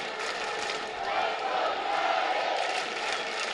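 Stadium crowd at a soccer match at the Lab, late in the game, with a steady, dense roar and murmur of many voices rising slightly midway, continuous and fairly loud throughout.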